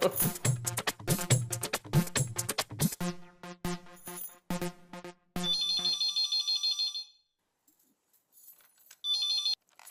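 A phone ringtone plays during a household scene in a Hindi comedy, coming as a repeated electronic melody in bursts after a stretch of lively music, with a short pause between rings.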